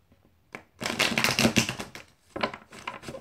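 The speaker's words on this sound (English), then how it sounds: "One last shuffle for Aries." Tarot cards are shuffled by hand in a burst of rapid riffling clicks and flutters, close and crisp, followed by a few quieter shuffles.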